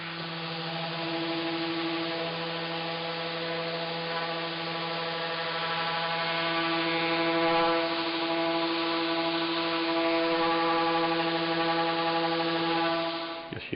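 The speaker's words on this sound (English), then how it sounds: "so it's down to the sander" A 6-inch electric sander with 120-grit paper running on a wooden Morris chair, a steady close whine and hum that holds evenly without pause from start to finish.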